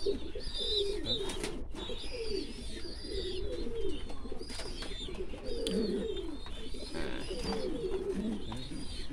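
Ornamental pigeons coo steadily in a loft, overlapping soft throaty coos and occasional chirps close by, with a constant background hum and no clear talk.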